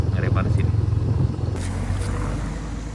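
A Daihatsu Ayla driving along a slick road, a steady engine and tyre drone close by with a pulsing rhythm that settles into a smoother hum, with someone talking over it.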